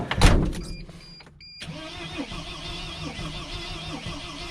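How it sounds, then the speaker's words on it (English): Starter cranking on a 2006 Sprinter van that won't start, a loud burst and brief pause before the engine spins steadily and rhythmically at close range, with no speech. "I'm just going to attempt to try to spin it, you know, some more, try to start it."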